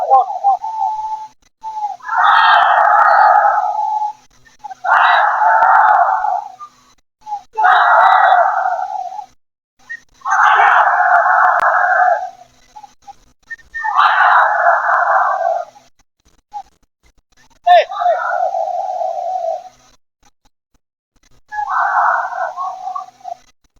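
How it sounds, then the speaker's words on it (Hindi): A large crowd at a Muslim religious gathering shouts a religious slogan in unison, seven or eight loud, rhythmic bursts separated by short pauses, with an amplified voice between them. "माइक आपकी तरफ कर रहा हूँ, पूरी आवाज गूंजनी चाहिए नारे की।"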